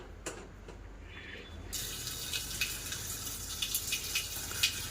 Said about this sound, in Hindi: तो मैंने आर ओ का पानी चला दिया